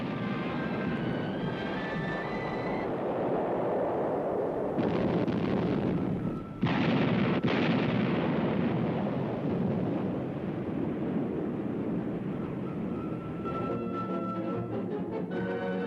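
German cannon fire at Calais during wartime, a heavy continuous roar of gunfire and rumbling blasts, loud and sustained with a sharp break midway.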